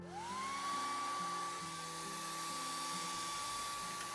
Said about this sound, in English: So I'm going to blow dry.